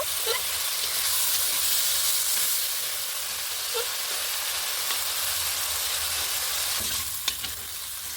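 Fried vegetables sizzle in oil and spice masala in a pan for a fish curry, a steady bright hiss with faint stirring clicks, continuous and close, no voices.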